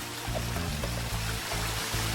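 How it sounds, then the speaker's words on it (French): Rushing waterfall in the video game Evoland 2, a steady broadband wash of falling water that holds near and loud for the whole moment, with low game music tones shifting underneath. "le son de la cascade quand on s'en approche"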